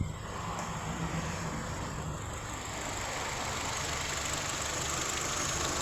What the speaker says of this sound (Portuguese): Aqui eu vou ligar esse carro aqui para vocês verem, ó.